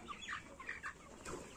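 A sick broiler chicken with E. coli gives short, rasping clucks and wheezy calls in a few quick bursts, close by and fairly faint.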